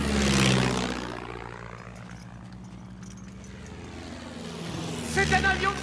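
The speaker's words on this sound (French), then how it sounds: "C'est un avion de Sandoka!" Propeller aircraft engine drones steadily overhead in a wartime battlefield setting, a low sustained hum that swells at the start and again near the end, with shouting voices over it.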